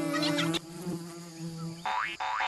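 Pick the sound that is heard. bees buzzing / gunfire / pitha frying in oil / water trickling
bees buzzing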